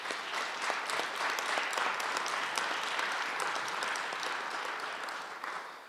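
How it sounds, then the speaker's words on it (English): Steady, loud audience applause fills a federal all-candidates forum in Calgary Northwest, dense clapping holding evenly for about six seconds before easing slightly at the end. "try to hold applause until all candidates have gone through and answered the question"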